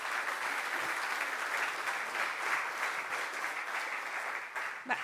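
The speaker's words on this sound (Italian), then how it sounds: "un applauso a tutti loro" A crowd at a Lega party political event in Friuli Venezia Giulia breaks into steady, dense applause, a sustained wash of clapping that holds at an even level for the whole stretch with no speech over it.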